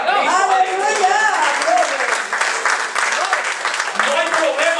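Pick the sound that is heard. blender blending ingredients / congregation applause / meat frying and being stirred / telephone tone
congregation applause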